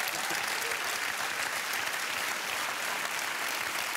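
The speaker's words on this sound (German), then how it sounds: "bekommen Sie jetzt ein Klatschen fürs Abheben. Ja, und Sie werden es hören." Studio audience at a TV year-in-review show breaking into steady, dense applause, loud and continuous throughout with no pauses.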